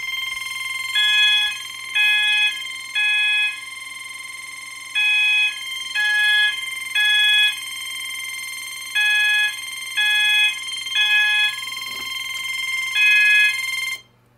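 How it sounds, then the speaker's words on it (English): Ionization smoke detector (CPX751) on a Notifier AFP 200 fire panel sounds its alarm during a magnet test: a loud, steady train of repeated electronic beeps in regular bursts, close and alone with no talking. "magnet test the CPX751 ionization smoke detector right here"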